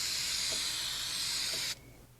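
A continuous aerosol spray hiss runs steadily for under two seconds, then cuts off abruptly, leaving quiet background.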